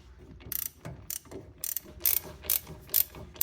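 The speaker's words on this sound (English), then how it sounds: "I can use a ratchet with a small 3-inch extension to get them out the rest of the way." Ratchet wrench clicking in repeated short bursts while loosening wheel hub bolts on a 2008 Infiniti FX35, a 3-inch extension fitted; several quick, close ratcheting runs separated by brief pauses.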